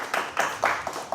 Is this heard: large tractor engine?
no